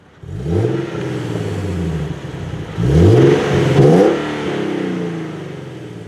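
A 2014 Nissan 370Z with a Borla aftermarket exhaust revs up twice with a deep rising roar, close and loud, followed by faint crackling pops as the engine settles back.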